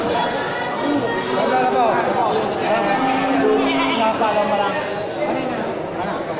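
Female goats bleating at a busy livestock market, overlapping calls over a constant hubbub of people chattering nearby, loud and continuous.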